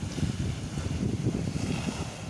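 Strong sea waves crash in the dark at night, with a dense, continuous low roar of surf and gusting wind close to the microphone.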